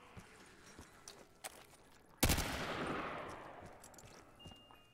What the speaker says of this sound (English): AK-47, nothing like a good Kalashnikov to pop some Noggy zombies